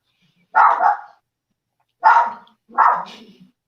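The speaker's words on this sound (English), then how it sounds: "She's a Min Pin and Yorkie mix. So she just barks at everything." A small Miniature Pinscher and Yorkie mix dog barks three times, one sharp bark followed after a pause by two quick ones, close by and loud in an otherwise quiet room.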